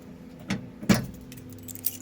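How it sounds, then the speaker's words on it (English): A set of car keys jangles briefly, with two or three quick metallic clinks and rattles, close and clear, with no voices. "Put the keys back in my pocket before I forget them"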